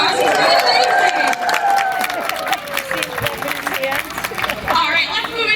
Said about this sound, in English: let's give him a great big round of applause